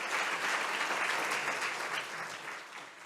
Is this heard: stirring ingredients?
no